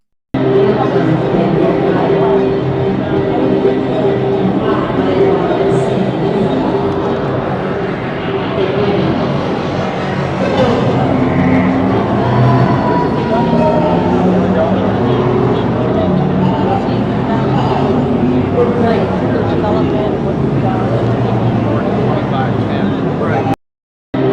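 Large convention crowd at the NAB show in Los Angeles, a dense steady wash of many voices and footsteps filling a big hall, continuous and loud throughout with no single voice standing out.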